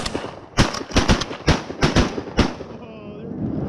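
Shotgun blasts at mallard ducks during a river duck hunt: about eight sharp, loud, close shots in a rapid, irregular string, with voices nearby between them.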